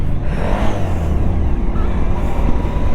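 Riding a 2019 Suzuki V-Strom 1000 motorcycle produces a loud, steady engine drone under heavy wind rush, continuous and close, with no talking.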